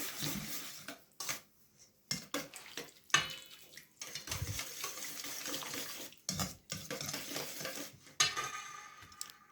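Batter of kefir, baking powder and soda for sugar cookies stirred in a bowl, with irregular scraping and clinking bursts, water splashes and dish noise, close and fairly quiet, no talking.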